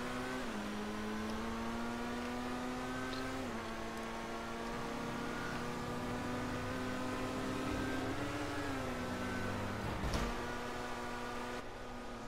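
Progen Itali GTB sports car in GTA Online accelerates with a steady, droning engine whine that rises in pitch, dips at a gear change and climbs again, continuous and loud throughout.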